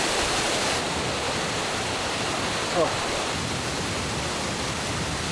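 A waterfall at Doi Inthanon in Thailand roars as a dense, constant wash of falling water, loud and unbroken throughout, with one brief murmur from a voice near the middle.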